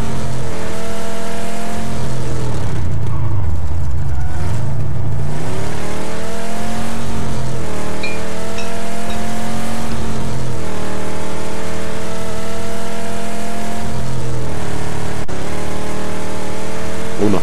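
A vehicle in the game PUBG drives off with a loud, close engine that revs and accelerates, its pitch climbing and dipping through gear changes and holding steady for a long stretch.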